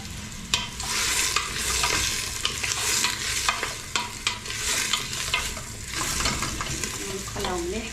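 Carrots frying in a pot for Tlemcen harira, a steady close sizzle with repeated spoon scrapes and stirring knocks throughout.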